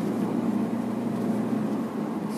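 A 2020 Toyota All New Rush TRD's engine drones with a steady low strain from inside the moving car, constant and moderately loud without any talk.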